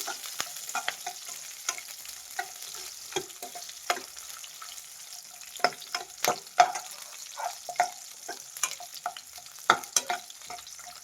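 Garlic and spices frying in a pan, with soft steady sizzling broken by repeated sharp scraping clicks of a spoon stirring, close and fairly quiet, no voices.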